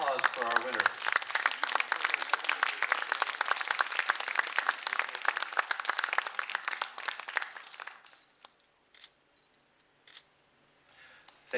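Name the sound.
audience applause for poetry contest winners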